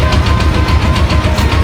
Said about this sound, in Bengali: এখন আরেকটি বোট এখানে আসতেছে, আপনারা দেখুন।